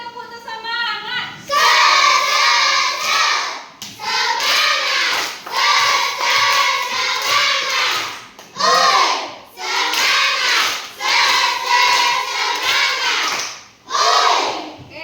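Children in a classroom clapping a rhythmic cheer, loud bursts of patterned claps and chanting separated by short pauses, repeated several times.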